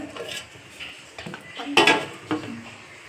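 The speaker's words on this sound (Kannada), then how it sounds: "ಒಂದು ಮುಚ್ಚಳ ಮುಚ್ಚಿಟ್ಟು ಹಳ್ಳಾಕ್ಬಿಡನ್ರಿ ಈಗ" A metal lid is set onto a pot of godhi huggi, a North Karnataka wheat dish, giving a few close clinks and scrapes followed by one sharper metallic clatter.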